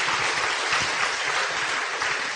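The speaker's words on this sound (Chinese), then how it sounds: "我们掌声欢迎" Audience in a lecture hall clapping to welcome guests, a dense, steady wash of many hands that continues evenly throughout.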